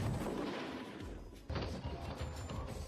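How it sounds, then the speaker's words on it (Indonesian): Bursts of gunfire from armed drones in an action movie scene, loud and dense with heavy low thumps and a crashing impact about halfway through. "Setelah drone menembakkan serangkaian tembakan,"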